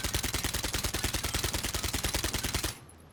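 An automatic gun in Call of Duty: Modern Warfare fires one long rapid burst without recoil control, a loud, steady stream of evenly spaced shots that stops abruptly near the end.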